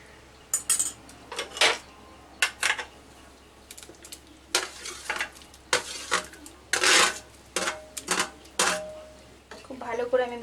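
Fried paneer cubes go into a pan of gravy and are stirred in with a metal spoon, giving a run of sharp clinks and scrapes against the pan, while a voice talks between the strokes.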